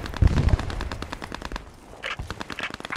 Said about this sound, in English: Shots coming in from southwest.